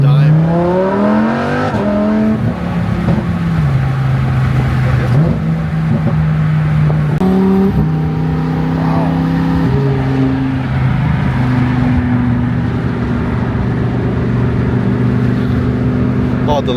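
A Lamborghini Huracan Evo engine revs loudly and drops through several downshifts, the pitch climbing then stepping down in bursts before settling into a steady drone heard from inside the car, with a voice speaking over it.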